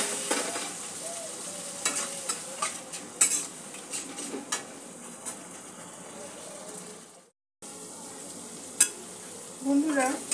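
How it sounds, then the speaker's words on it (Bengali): Paste of garlic, green chilli and black cumin sizzling and frying in a pan with a splash of water, stirred with repeated scraping and clinking of a utensil, steady and close, with a brief silent gap near the end. "সামান্য একটু জল দিয়ে দিচ্ছি মশলাটা কষার জন্য।"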